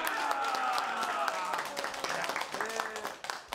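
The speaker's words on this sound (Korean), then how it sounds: "박수!" Scattered audience clapping during a Korean sitcom scene, moderately loud and uneven, mixed with people talking over it throughout.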